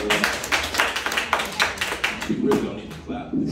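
An audience at a comedy show at the Broadway Comedy Club in New York claps in a loose, uneven burst, the applause mixed with voices and cheering before it thins out near the end.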